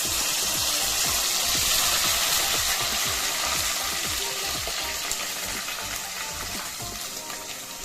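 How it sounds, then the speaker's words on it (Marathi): Steady, loud sizzling and crackling of spice paste frying in hot oil in a kadai for chicken curry, with scraping stirs now and then, continuous throughout. "आता हा मसाला आपण छान असं फ्राय करून घेऊ"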